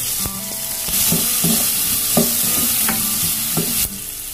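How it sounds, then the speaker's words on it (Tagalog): Garlic, onion, ginger and chili sizzle loudly in a hot pan, with a steady frying hiss and repeated scraping stirs of a utensil. "pakatasin muna natin yung bawang, sibuyas, tsaka luya"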